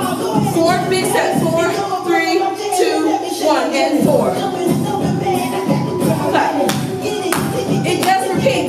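Regular hand claps punctuate an upbeat cardio dance routine, mixed under pounding music with an instructor talking over the rhythm.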